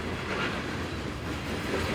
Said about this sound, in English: This view looking westerly as the train comes towards me,